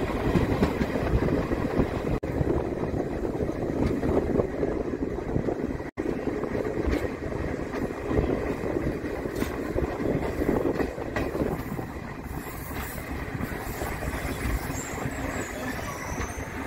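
The Ajmer–Jaipur passenger train 79601 rolls along the rails with a steady, loud rumble of wheels and carriages that continues unbroken throughout, heard from on board.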